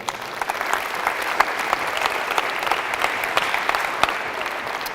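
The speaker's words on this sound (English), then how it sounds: "So definitely a round of applause for the administrators and people like Coach Carter." Audience applause for school administrators at a mental health talk by a New York Jets safety, many hands clapping in a steady patter with a few sharper individual claps standing out.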